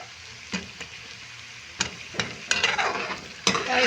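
Chicken hits a pot of frying onions for chana pulao, with stirring scrapes and clanks at first and then a swelling, steady sizzle after the meat goes in. The sound is close up, with no speech.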